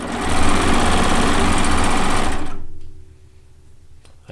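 A Baby Lock serger sewing a lacy log cabin quilt top runs loud and steady at high speed for about two and a half seconds, then stops and leaves a faint low hum with a small click near the end.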